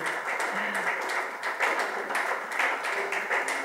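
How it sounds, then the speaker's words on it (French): An audience at a conference debate applauds, producing steady clapping from many hands that stays fairly even and moderately loud for the whole stretch, with faint murmuring beneath. "Nous applaudissons très fort, s'il vous plaît."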